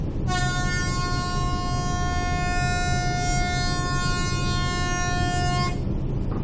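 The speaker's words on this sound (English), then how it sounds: "this will be supplemented by a 10-second whistle," One long, loud ship whistle blast, a 10-second crew alert signal, sounds continuously over a constant rumbling background, then cuts off.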